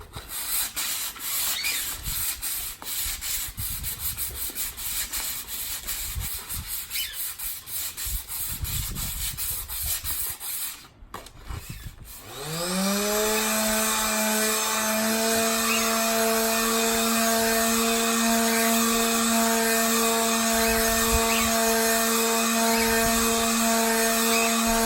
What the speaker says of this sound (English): the first thing I need to do is sand that lacquer off so that the paint will stick